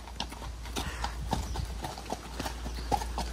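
Ponies' hooves clip-clop in a steady, uneven patter close by while ridden outdoors on a windy day, with wind rumble underneath and no talk.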